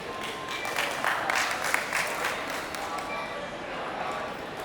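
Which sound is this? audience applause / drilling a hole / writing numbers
audience applause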